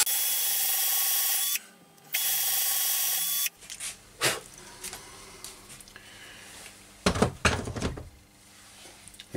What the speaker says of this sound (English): I'm just going to drill the little hole where X marks a spot